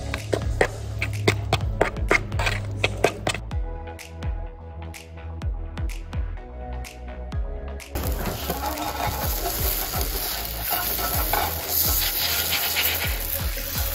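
Pancake batter being mixed in a bowl, with repeated scraping and rubbing strokes and small clicks forming a steady, close rhythm that shifts in texture partway through.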